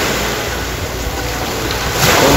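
Sea waves washing onto Kemer beach, a steady broadband wash of surf close by with a slight swell as a wave breaks near the end, no voices.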